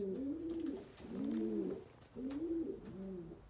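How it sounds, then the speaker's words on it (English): A racing pigeon in its loft coos softly nearby, three rolling, throaty calls in a row with short pauses between them. "There's the first bird there, just calling."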